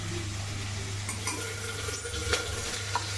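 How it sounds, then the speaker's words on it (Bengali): Dried red chillies tempering in mustard oil for a moong dal: a steady sizzle plays over a low constant hum, broken by a few light stirring scrapes and a clink of a utensil. "অরলের ডালের মধ্যে সরষের তেল নিয়েছি আর শুকনো লঙ্কার ফোড়ন দিয়েছি"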